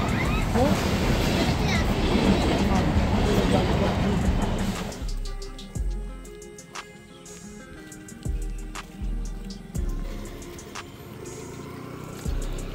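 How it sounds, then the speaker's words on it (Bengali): A loud broadband rush fills the first five seconds, then gives way to quieter rumbling with repeated low thumps, like train wheels clattering nearby. "ট্রেন যাচ্ছে।"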